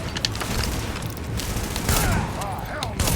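Dense video game gunfire from The Division, a near-continuous fusillade of shots and booms in a fight at the Warren Power Plant on Rikers, loud and sustained with no voices over it.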